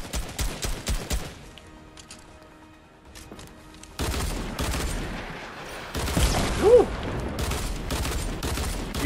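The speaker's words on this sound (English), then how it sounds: "Do you not see me shooting you, bro?" Rapid gunfire in a Fortnite match, bursts and sustained volleys crackling amid game effects, with a loud burst near the middle and no voices heard.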